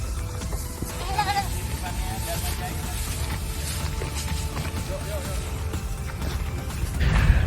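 Goats bleating at an outdoor site in Ancol, Jakarta, with wavering bleats over a busy background of crowd noise and traffic hum, and people talking nearby.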